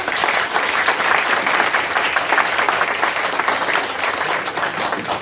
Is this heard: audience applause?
yes